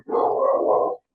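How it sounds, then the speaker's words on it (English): A single close, loud dog bark lasting about a second, alone with no speech over it, heard during an online programming project presentation. "excuse about the barking dog"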